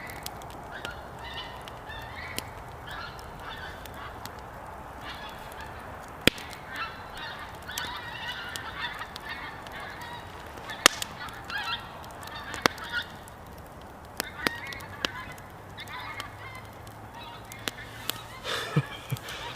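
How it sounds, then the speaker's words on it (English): Geese honking as they fly overhead, scattered calls rising above a quiet outdoor backdrop, some near and some farther off, spread irregularly. "I'll let these geese fly over."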